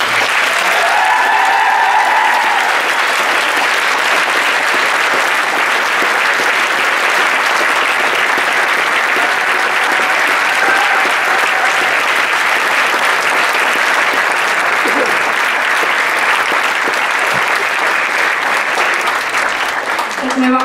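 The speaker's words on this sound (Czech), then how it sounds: "Tak já bych chtěl poprosit pro ně obrovský potlesk." Large audience at a music evening gives a huge, loud, sustained round of applause, thick continuous clapping mixed with faint cheers and whistles.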